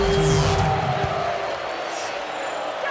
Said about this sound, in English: how about the intensity and focus of the crowd here? So loud in this place.